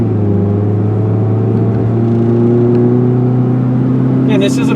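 A 2002 Dodge Neon drives and accelerates, its engine drone rising steadily and holding loud and close, with a brief burst of higher-pitched noise near the end.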